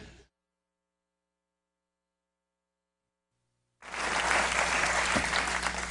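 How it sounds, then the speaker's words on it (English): After a brief burst and a stretch of near silence, a studio audience breaks into steady applause that runs to the end, moderately loud with a low hum beneath. "A smattering of applause."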